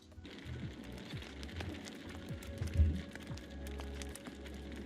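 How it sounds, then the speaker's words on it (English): A looping fire sound effect is previewed in the Unity game engine: a soft low roar with scattered sharp crackles and pops. It stays faint and steady throughout, with no talk. "You can hear the fire roaring, you can hear things crackling in the background"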